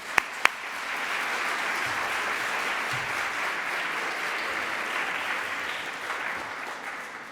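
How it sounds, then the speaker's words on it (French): Audience at a student entrepreneurship contest gala in Montreal breaks into sustained applause after two sharp knocks, a broad even wash of clapping from a large hall that holds steady for several seconds. "ça mérite une bonne main d'applaudissements"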